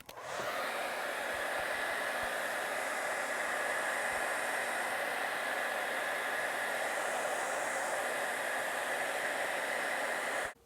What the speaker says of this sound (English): So crank up your hairdryer and heat it up.